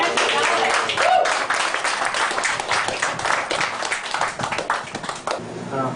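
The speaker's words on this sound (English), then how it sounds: "And a round of applause for all of us" A round of applause breaks out among a film crew, a busy run of many hands clapping, close and fairly loud, with voices mixed in beneath it.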